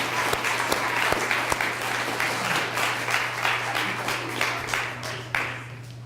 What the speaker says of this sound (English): Let's give our two teachers a round of applause for all that they do for us.